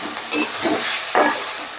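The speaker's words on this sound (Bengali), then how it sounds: "এবার টমেটোটাও একটু নাড়াচাড়া করে সামান্য একটু সফট করে নেব।" Chopped tomatoes, two medium ones, stirred and softened in a hot pan, with a steady close sizzle broken by two brief scraping stirs of the utensil.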